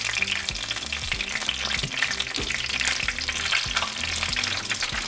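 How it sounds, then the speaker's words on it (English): Chicken chimichangas frying in hot oil, a steady close sizzle and crackle running unbroken throughout with no talking. "Now we're just going to fry them until they turn a pretty golden color."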